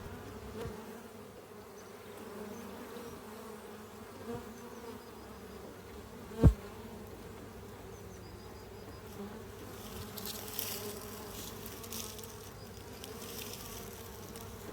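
Honey bees buzz around a hive in spring as they return carrying pollen, a soft steady drone of many insects with a single sharp knock in the middle and a brief hiss near the end.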